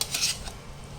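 Lemon rice tempered with spices is stirred in a pan, making a short scrape and clink of utensil on metal with a faint sizzle beneath, heard alone and close.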